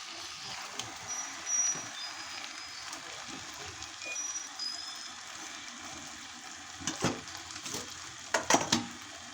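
Goat meat going into hot oil and spices in a pan, giving a low steady sizzle with a few louder crackling bursts near the end, heard alone with no talking.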